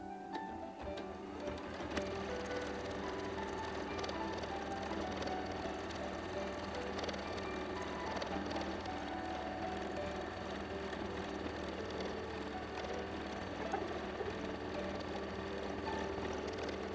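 A sewing machine stitches quilting on painted fabric with lily designs, running in a steady, continuous mechanical whir at close range without pauses or talk.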